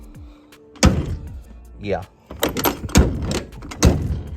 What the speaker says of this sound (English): it fits and shuts. So the door is adjusted properly.